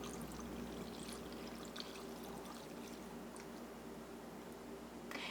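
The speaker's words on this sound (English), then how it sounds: "I heated up a second color of wax, and we're just gonna go ahead and pour that on top" Faint melted candle wax pouring into a mold in a steady, quiet stream, with soft trickling and occasional small squishing sounds.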